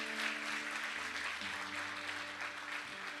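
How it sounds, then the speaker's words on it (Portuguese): A church congregation claps in praise during an evangelical service, steady broadband applause filling the room for a few seconds with a faint organ or keyboard tone sustained underneath. "Se aplauda o nome do Senhor."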